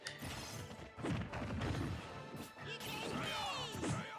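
Lucas's smash attacks in Super Smash Bros. for Wii U land as a string of loud, punchy crashes and thwacks over busy game audio, with a whooshing swipe near the end.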